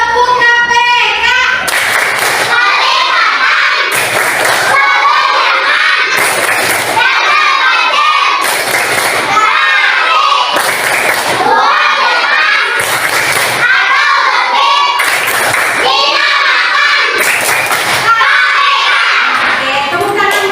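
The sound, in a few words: classroom children doing a rhythmic clapping chant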